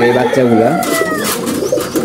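Pigeons coo close by in low, rolling calls, layered over a steady background murmur.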